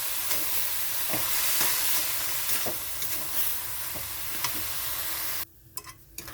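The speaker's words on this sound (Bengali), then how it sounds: "এখন এটা বারবার নাড়তে হবে তা না হলে পুড়ে যাবে" Coconut semolina with sugar stirred in a pan, a steady hissing sizzle broken by repeated light scrapes of the spoon against the pan, close by, until the sound drops off abruptly near the end.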